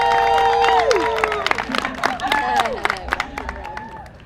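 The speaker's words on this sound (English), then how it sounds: "So Walking Robins, cheer loud and proud." Team members at an ALS walk and roll event cheer and clap outdoors, with shrill whoops, voices and scattered clapping in a lively burst that thins out over about four seconds.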